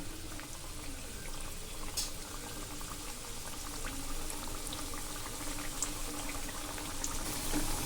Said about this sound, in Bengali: তেলটা গরম হয়ে গেছে একটা একটা করে এই স্ন্যাক্সগুলো দিয়ে দিব